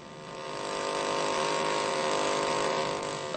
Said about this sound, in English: A diamond drill is used to obtain cores of lava.